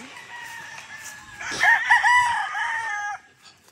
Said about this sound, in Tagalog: Ito po ang sisiw.